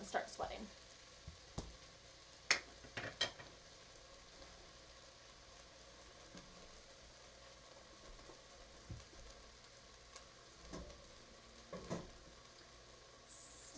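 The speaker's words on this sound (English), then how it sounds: "And then these onions are just going to start sweating." Onions sweating in a pan on the stove, a faint steady sizzle with scattered sharp clicks and knocks from stirring, quiet and close throughout.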